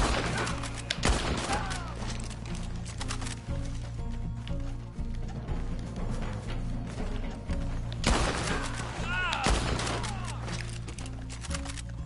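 Repeated gunshots from Red Dead Online, sharp cracks ringing out over a steady noisy game backdrop, with a couple of louder clustered volleys near the start and again later, the shots irregularly spaced through the whole stretch.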